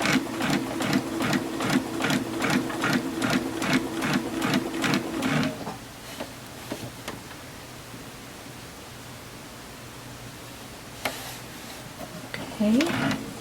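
A sewing machine stitches a seam, its needle chattering in a fast, even rhythm for several seconds and then stopping, followed by quiet handling noises.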